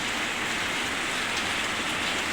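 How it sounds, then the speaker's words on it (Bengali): Heavy rain pours down in a steady, dense roar, loud and unbroken throughout, with no voices or other sounds. "একদম হুড়মুড়িয়ে বৃষ্টি পড়ছে"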